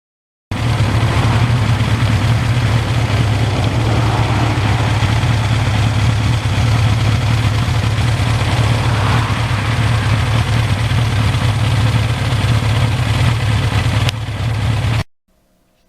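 A 1982 Suzuki GS1100E motorcycle idles steadily and close by, its engine holding a constant low rumble with no talk before it cuts off at the end.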